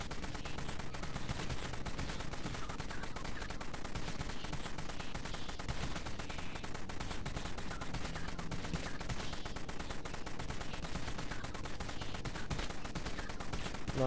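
Sustained rapid gunfire from a zombie-shooter game, Dead Frontier, as a weapon pours round after round into one enemy, a dense continuous rattle of shots filling the whole stretch with no voices over it.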